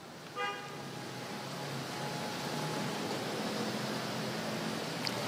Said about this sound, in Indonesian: Saat ini arus lalu lintas di kawasan Simpang Gotri dalam keadaan ramai dan lancar